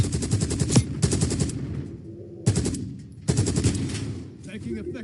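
Video game gunfire rattles in rapid automatic bursts, loud and close, with brief pauses between volleys.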